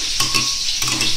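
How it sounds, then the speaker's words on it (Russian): Meatballs in tomato sauce being stirred in a frying pan, a few quick scraping strokes of a utensil over a soft bubbling sizzle, close and fairly loud. "Все перемешиваем"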